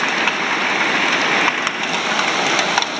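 Dense, steady pattering of hail pelting a hard surface during a summer storm in Alcorcón, a continuous crackling rattle with sharper individual hits, fairly close and loud, no voices.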